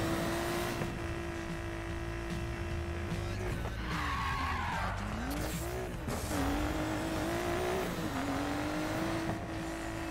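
A car races in Need for Speed Payback, engine droning steadily while tires squeal and skid through a cornering stretch midway, pitch wavering as the car slides, loud and close with no voices.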